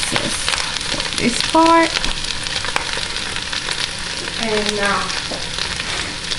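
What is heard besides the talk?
stirring caramelizing ingredients frying in a pan for Thai halibut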